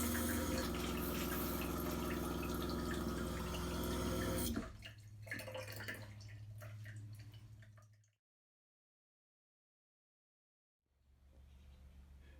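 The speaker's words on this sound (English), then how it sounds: "just turn the shower on" Shower water in an RV pours onto the shower pan beside the drain, a steady close hiss that then softens, cuts out, and resumes faintly near the end.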